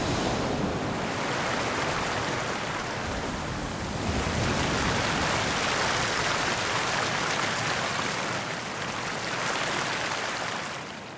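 Loud ocean waves break against a rocky tidal shore in a continuous roaring wash of surf that swells and recedes. No voices can be heard.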